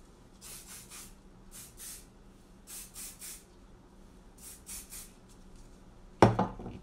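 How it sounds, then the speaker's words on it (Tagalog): Repeated short hissing bursts of hairspray from a spray can, about eight puffs in quick pairs and singles, close and fairly soft, followed by a sharp clatter as the can is set down. "eto na pala yung aking spray net"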